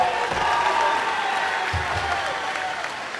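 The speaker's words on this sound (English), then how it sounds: "Mr. Wally, round of applause for him" An audience at a tech school graduation ceremony gives a short round of applause, moderately loud and steady with scattered clapping under a faint hum of the hall.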